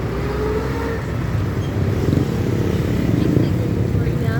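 A motorcycle engine drones steadily along a road, rising slightly as it nears, while people talk over the mechanical hum.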